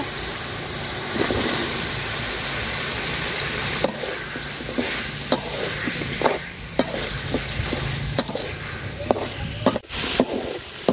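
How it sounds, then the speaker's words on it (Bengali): Steady sizzling of spices frying in hot oil for a tilapia and green mango curry, with occasional stirring scrapes and clicks, close and continuous throughout. "মশলাটা তেলের সাথে সুন্দর করে ভাজা নিচ্ছি"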